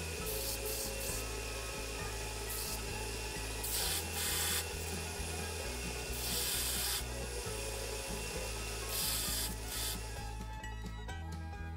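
A file rasping along the edges of a stainless steel fork blank being shaped into a fishing lure, steady repeated back-and-forth strokes, close and clear, with no talking.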